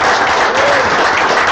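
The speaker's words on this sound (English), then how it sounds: "Everybody give a big round of applause for Brent Go." Loud, steady audience applause fills a team meeting, continuous dense clapping from a crowd with a faint voice briefly rising underneath.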